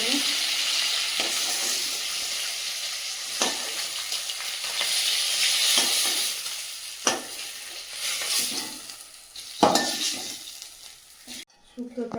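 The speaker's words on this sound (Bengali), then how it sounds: "মাছগুলো ভাজা হয়ে গেছে, তুলে নেবে" Fish frying in hot oil: a continuous bubbling sizzle close by, with stirring and occasional utensil clanks against the pan.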